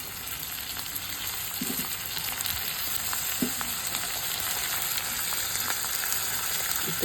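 Beef mince fries in a pan as turmeric, chili, coriander, ginger, garlic and kebab spice go in, producing a steady close sizzle with a couple of soft taps and faint stirring, no voices.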